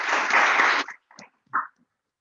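Audience applause for a speaker arriving at a youth information session forum: a dense burst of clapping for under a second, then a few scattered, fading claps.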